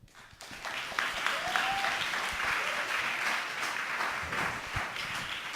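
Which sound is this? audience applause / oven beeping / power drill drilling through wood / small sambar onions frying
audience applause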